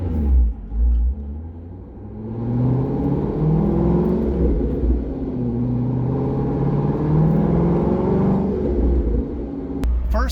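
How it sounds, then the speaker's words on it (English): A C6 Corvette's LS2 V8 with a test camshaft pulls at wide open throttle in third gear from low RPM, a loud, steady, deep engine drone that rises slowly in pitch for several seconds, then cuts off, heard from inside the car. "let's do a few wide open throttle pulls to gather some good scan data at various RPMs"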